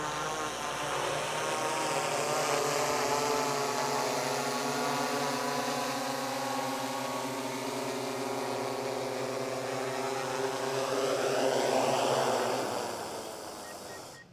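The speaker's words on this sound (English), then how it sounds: "the drone's gonna return to home here" A drone flying back to land after a thermal deer-scouting flight, its steady motor whine holding loud and even throughout, the pitch shifting slightly as it approaches and the sound tails off at the end.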